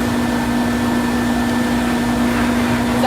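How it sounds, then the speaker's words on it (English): A canine mini fluffer pet dryer blows on a cat at about a third of its variable speed, making a constant whirring motor hum with a steady tonal whine and airy rush, close and unbroken. "I'm using a canine mini fluffer with the variable speed"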